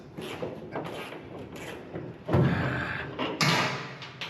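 Car door panel being fitted onto a vehicle body during restoration work, with a series of dull mechanical thuds and bumps, two heavier knocks standing out near the end.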